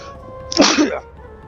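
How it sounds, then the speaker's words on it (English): A single sharp sneeze bursts out close by, brief and forceful, with quiet room tone before and after. "I have to sneeze."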